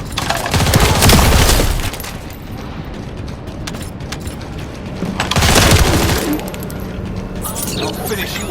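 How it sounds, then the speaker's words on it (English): An assault turret in the video game The First Descendant firing two loud, sustained bursts of rapid automatic gunfire, with a quieter stretch of game sounds between them and a game voice over the action. "Assault turret activated."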